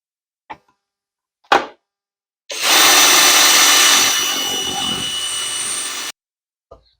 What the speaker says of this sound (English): Got my drill. I'm going to drill into the wood.